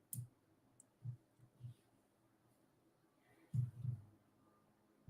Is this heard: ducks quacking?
no